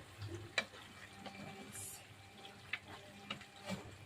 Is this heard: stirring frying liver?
yes